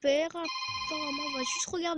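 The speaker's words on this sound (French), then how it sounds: "le petit téléphone qui sonne" A small telephone rings with a bright, sustained electronic tone through most of the moment, while someone speaks briefly at the start and end.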